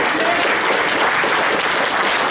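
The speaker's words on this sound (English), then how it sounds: "round of applause for her efforts in putting this together" An audience at a comedy show breaks into loud, continuous applause, a thick, even roar of many clapping hands that fills the whole moment.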